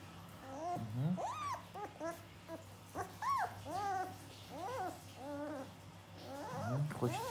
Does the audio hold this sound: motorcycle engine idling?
no